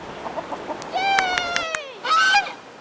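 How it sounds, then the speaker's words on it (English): Poultry by a flood-hit shore call out in loud honks and clucks, a drawn-out honking cry followed by a second shorter burst, with softer clucks beforehand; goose-like tones are prominent. "One by one, each chicken made it to shore."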